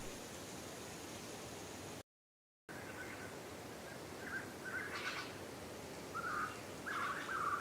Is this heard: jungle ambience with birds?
yes